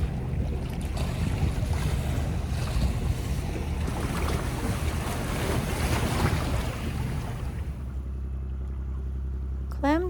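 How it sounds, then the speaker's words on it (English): Wake waves from a passing fishing boat wash and slosh against a trawler at sea along remote fjords, with a continuous rushing roar and wind buffeting the microphone that eases off near the end. "Here comes the waves from the fish boat."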